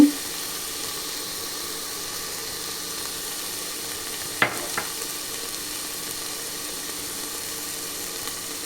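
Mutton curry with turmeric, chilli powder and masala frying in a pan, a steady soft sizzle with one brief stirring clatter midway.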